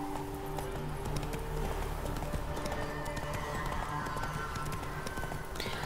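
Horse hooves gallop in a steady clip-clop rhythm while riding in The Witcher 3, with an occasional whinny over continuous game ambience and music. The sound is close and sustained.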